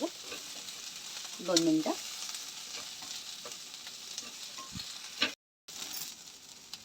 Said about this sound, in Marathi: त्या लसणाच्या पाकळ्या आणि हे अद्रक जे मोठे मोठे तुकडे करून घेतलेत आपण ते टाकणार आहोत. आणि ते पण छान परतवून घेणार आहे आपण कांद्यासोबत